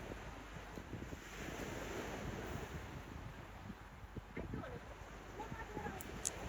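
Steady surf washing onto a beach in Oman at sunset, a continuous broad rush with wind buffeting the microphone and faint voices now and then.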